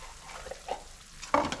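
A pot of moose cheek meat stew with wine bubbles and simmers, soft steady sizzling with light stirring scrapes and a louder burst of bubbling toward the end.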